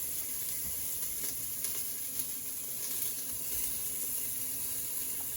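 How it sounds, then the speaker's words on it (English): Steady broadband hiss of food sizzling in a hot pan, continuous and fairly close, with faint crackles and no talking. "I hope you can hear that great sizzle."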